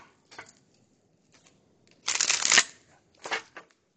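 Cards being shuffled up close: a few quick riffling bursts, one longer burst in the middle, with quiet gaps between.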